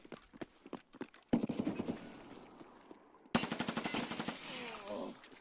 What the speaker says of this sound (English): Some bait shots there.